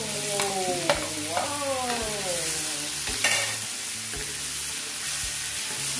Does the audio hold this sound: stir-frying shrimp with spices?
yes